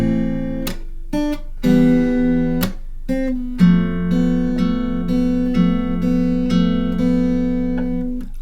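Fingerpicked acoustic guitar playing two measures of a song, with sharp plucked attacks and ringing sustained notes, clear and close without talk.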